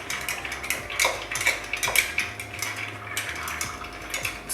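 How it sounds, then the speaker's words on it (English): A spoon stirs 1.5 ounces of Irish whiskey in a mixing glass with ice, making a close, busy run of rattling, clinking ice and metal taps that carries on for several seconds with no one talking. "Just going to stir that up."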